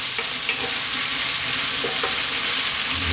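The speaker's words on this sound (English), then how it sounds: "Just a few seconds with our garlic and ginger in there." Garlic and ginger sizzle steadily in hot oil in a pan, a loud, continuous close-up frying hiss with a few faint stirring taps, and no one talking.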